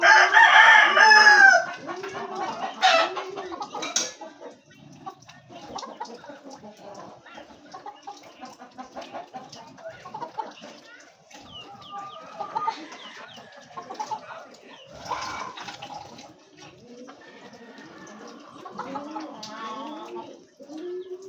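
Boston Roundhead chickens crow loudly up close at the start, followed by scattered clucks and softer crowing from the flock under intermittent talk.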